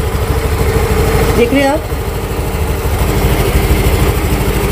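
A scooty engine idling steadily just after starting, a close, even low hum throughout, with a voice speaking briefly over it.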